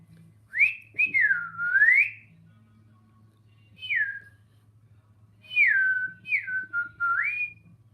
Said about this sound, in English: How many of you are whistling now too?